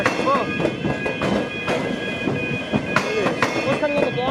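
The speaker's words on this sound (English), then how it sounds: "Train on the up, on the down track as well." Trains running on the up and down tracks of Melbourne's Frankston line near the Glen Huntly tram square, with steady rolling rumble, repeated wheel clicks over rail joints and faint high squeal, fairly close and continuous.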